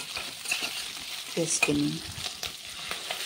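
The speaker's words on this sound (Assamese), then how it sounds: "এয়া মাছখিনি উলটি কৰি মই হাফ ফ্ৰাই কৰিম।" Kuchia eel fish pieces sizzle steadily in hot oil in a pan, a close crackling hiss with stirring clatter and a brief spoken word.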